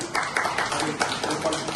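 Clapping from a gathered crowd at a Telangana employees' union membership enrollment event, a dense burst of hand claps filling the short moment at moderate loudness, mixed with some murmuring voices.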